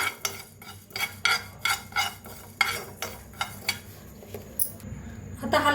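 Fennel seeds dry-roast in a pan while a spoon scrapes and taps against the metal in a quick, regular run of clinks that thins out toward the end.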